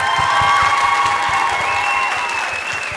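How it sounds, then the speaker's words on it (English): Student performers at a Korean Culture Day program at Pittsburg State University get a loud, sustained round of applause from the audience, with scattered cheers and whoops riding over the steady clapping throughout. "can we just give them a big round of applause for all of their hard work?"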